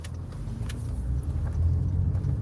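Cars pass by on a road, a steady low rumble of traffic heard from inside or near a vehicle, swelling slightly toward the end with no clear individual pass-bys.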